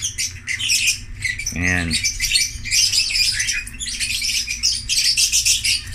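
Pet birds, including a green one, being bathed give a close, busy run of sharp chirps and squawks in repeated bursts, with someone speaking briefly between them.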